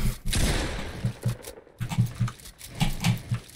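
Gunfire in Fortnite comes as short bursts of sharp shots with a low thumping punch, firing in quick, irregular clusters close up over the game's background noise.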